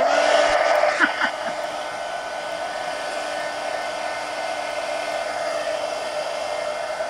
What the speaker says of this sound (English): now let me dry this